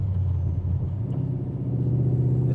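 A Coyote-swapped 1997 Ford Mustang SVT Cobra driving, its V8 a steady low rumble heard from inside the car, smooth and continuous without sharp revving.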